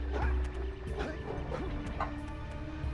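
A dog in the platformer game Jak and Daxter: The Precursor Legacy gives several short barks and yips over steady game music and effects, with a couple of crashing hits.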